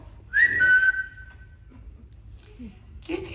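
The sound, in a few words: whistling in a stage musical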